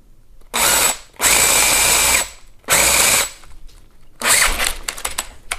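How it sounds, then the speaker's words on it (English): A power drill with an 11/32 inch bit runs into metal on a Gotway Mten3 electric unicycle in three long bursts of loud, high whining grind, then a shorter, rougher burst, with brief quiet gaps between. "So I need to drill this out. I'm going to use 11/32 of an inch drill bit."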